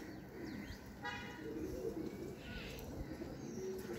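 Pigeons coo softly in a loft in Lahore, with a few low, throaty coos and some light chirps and flutters, fairly close and with no talking.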